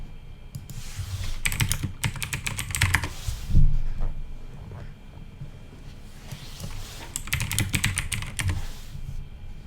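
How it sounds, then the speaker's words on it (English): Someone types a short search on a computer keyboard in two quick bursts of clicking keys, with quieter handling sounds in between. "Let's just type driving"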